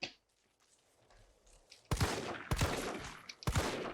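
Gunshots in the survival horror game Resident Evil 3: after a quiet, tense stretch, three loud, sharp handgun shots ring out about a second apart, each with a short echoing tail.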